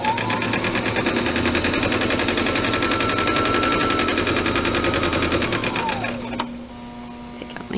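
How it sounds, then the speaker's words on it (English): A sewing machine stitches fabric up to the fold in one loud, close, rapid run of rhythmic mechanical clatter for about six seconds, then winds down and stops with a faint click. "I'm going to line up my fabric again, and then I'm going to sew to the fold."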